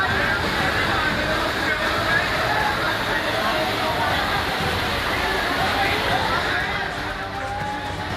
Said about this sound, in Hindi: आफत की बारिश के बीच गली में ड्रम और बाइक पानी के प्रवाह के साथ बहते चले गए